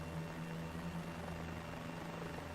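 A helicopter flying over the Nürburgring in Microsoft Flight Simulator gives a faint, steady rotor-and-engine drone. The hum holds evenly throughout, with no voices over it.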